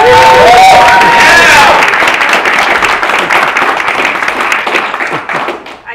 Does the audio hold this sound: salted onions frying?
no